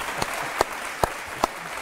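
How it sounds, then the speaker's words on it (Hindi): At an Aap Ki Adalat television courtroom show, a few separate hand claps ring out in a sparse, uneven rhythm against quiet room tone. "ताली बजाइए भाई"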